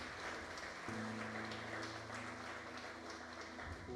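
A church congregation claps for the Lord during a Portuguese-language sermon, a steady, quiet wash of applause with a sustained keyboard chord sounding beneath it for most of the stretch.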